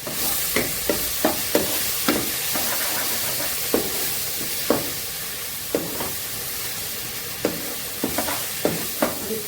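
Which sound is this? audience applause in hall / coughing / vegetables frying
vegetables frying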